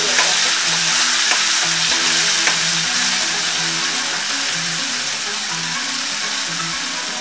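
Chopped tomatoes fry in hot oil with mustard seeds, cumin and garlic, giving a loud, steady, close sizzle that continues unbroken with occasional soft crackles.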